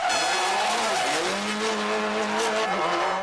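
A blue Subaru rally car with golden wheels races past, its engine roaring loud and close while tires squeal and skid in sliding, rising tones.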